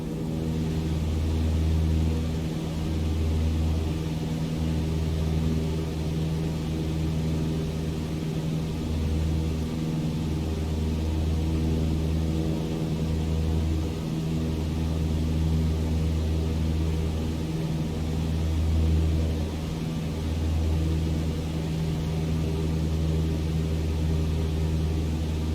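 Cessna 152 single-engine airplane in climbing flight after takeoff, its steady droning engine and propeller hum loud and close from inside the cabin, with a regular pulsing beat and no voices.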